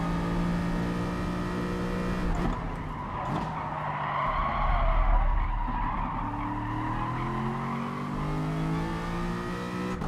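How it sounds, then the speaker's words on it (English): Race car tyres squeal and scrub through a corner in GT Sport at Tsukuba, a sustained loud skidding howl over a droning, shifting engine note that dips and rises as the car works through the turn. "scrubbing off speed with the tyres"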